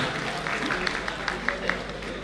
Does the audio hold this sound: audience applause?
yes